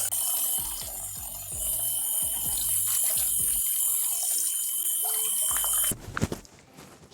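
Tap water runs over a stress ball being washed in a sink, a steady splashing stream with squeezing and dripping. Near the end the flow breaks into louder, irregular splashes.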